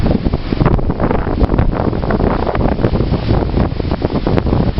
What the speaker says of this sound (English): Waves come pouring in, splashing.